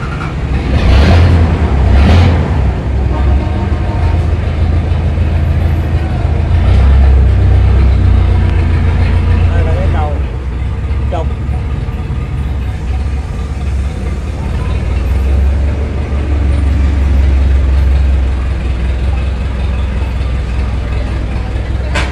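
An ISEKI TS2800 Japanese tractor with a 28-horsepower three-cylinder engine runs steadily, a loud, close, continuous low rumbling drone that holds for the whole stretch without talk.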